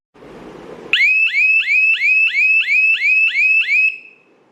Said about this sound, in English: You can hear the buzzer sound.